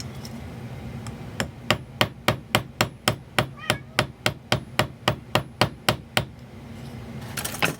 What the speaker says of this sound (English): you can totally just start it with the round side of your ball peen hammer.